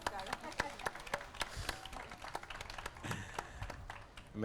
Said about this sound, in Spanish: sí, puede aplaudir